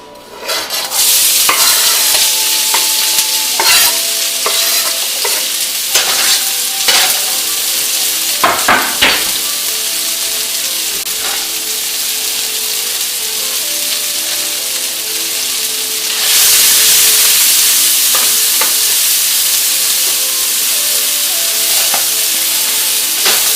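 Shallots browning in oil in a skillet, a continuous sizzle punctuated by utensil scrapes and knocks, swelling louder near the end.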